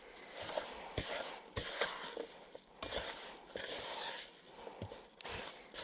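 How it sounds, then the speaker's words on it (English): Eggs and sugar stirred by hand in a bowl for rhubarb pie filling, faint soft scraping and occasional light clinks of the utensil against the bowl, irregular and close. "now I'm just gonna hand mix this in the bowl"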